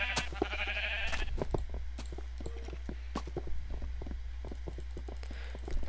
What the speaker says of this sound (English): You can help me kill some of these sheep.